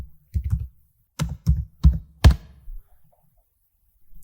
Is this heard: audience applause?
no